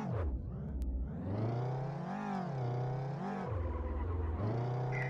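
Simulated car engine in a game demo, revving up and down with pitch sweeping as automatic gear shifts happen around set RPM thresholds, several distinct rise-and-drop cycles, loud and close, no talk.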